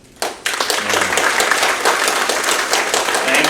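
A large crowd applauds at an all-associate company meeting, a dense, steady wash of clapping that starts abruptly and holds loud and full throughout, without voices breaking through.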